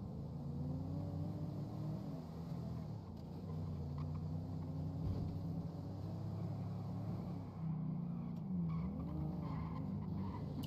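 A car slides sideways in GTA roleplay, tires squealing in wavering, swooping tones over a continuous engine rumble, the screech rising and falling in several bursts throughout.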